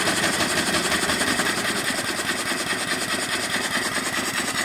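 A model steam engine runs steadily at speed, a dense continuous hiss and rapid mechanical chuffing with slight vibration, close and loud throughout, no talking.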